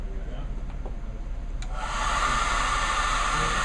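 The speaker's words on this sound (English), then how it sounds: "And there's the hairdryer." A hair dryer switches on partway through and keeps up a steady, loud whooshing hum, with a faint low background before it starts, in an Intel lab demonstration of power-management sensing.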